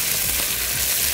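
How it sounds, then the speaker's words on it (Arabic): Beef bacon frying hard over high heat in a pan, a steady dense sizzle and crackle running unbroken throughout, close and loud with no talk. "حطينا اول حاجه البيكن، هنسيبه يتحمر جامد"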